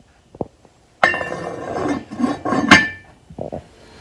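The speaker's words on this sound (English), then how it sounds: "I'm going to put the top back on so we can get this to boiling" A lid is set back onto a stew pot of beef stew, giving a loud clattering clink of metal and glass with a short rattle as it settles, after a few faint taps.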